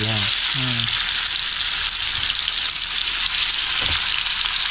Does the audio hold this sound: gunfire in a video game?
no